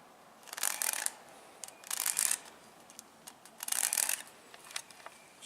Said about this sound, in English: I'm going to draw an X.